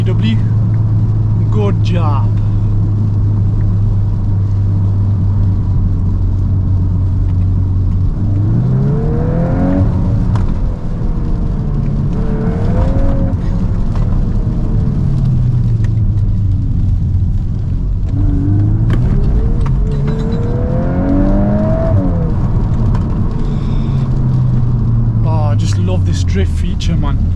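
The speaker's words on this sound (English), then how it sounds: "This thing is nuts! What a car, what a drive." A VW MK8 Golf R is driven hard on wet roads, its engine note rising and falling through repeated accelerations and gear changes, close and loud inside the cabin with tyre and road roar underneath and someone talking over it.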